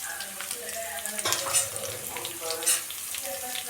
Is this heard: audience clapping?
no